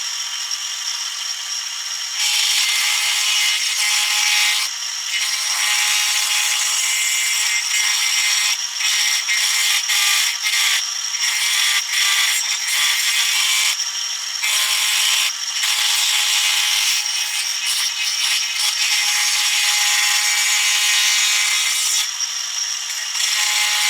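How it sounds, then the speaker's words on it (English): A drill press at 2700 RPM with a round-over bit routes plywood with a high, steady grinding whir that keeps catching and letting up for a long stretch. No voices. "So I got a round over bit in my drill press at 2700 RPM."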